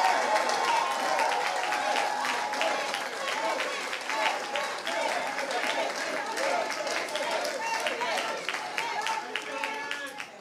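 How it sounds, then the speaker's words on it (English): A crowd gives sustained applause for a president at a political gathering with New York's governor, loud continuous clapping with scattered cheers and voices rising through it. "So you should give your president a big round of applause on that."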